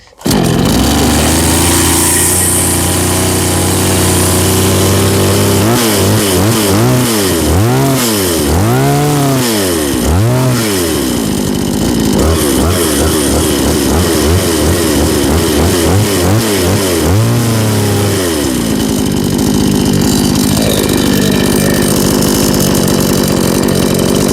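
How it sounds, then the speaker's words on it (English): A YATO YT-84892 gasoline chainsaw runs loud and close, a harsh two-stroke engine note that idles, then revs up and down repeatedly in sweeping surges before settling back to a steady drone. "You just have to turn on the machine like that, hold it to the ground like that."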